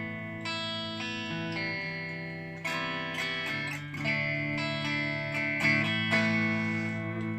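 Clean-toned electric guitar through a ZCat reverb plays sustained chords and single notes, the ringing tails blooming and overlapping, close and alone with no talk.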